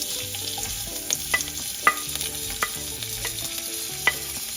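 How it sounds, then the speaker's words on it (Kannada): Onions and crushed garlic fry in a pan for horse gram bassaru, making a quiet, steady sizzle with small pops and several spatula taps, close up and with no talking. "ಆನಿಯನ್ ಕೂಡ ಗೋಲ್ಡನ್ ಬ್ರೌನ್ ಆಗೋವರೆಗೂ ಸ್ವಲ್ಪ ಫ್ರೈ ಮಾಡ್ಕೋಬೇಕು"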